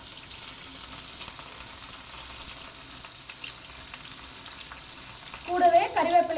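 Finely chopped onions fry in hot oil for a crab pepper masala, a bright steady hiss of sizzling heard up close, with a voice briefly speaking near the end.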